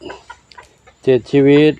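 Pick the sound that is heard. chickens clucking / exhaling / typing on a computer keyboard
chickens clucking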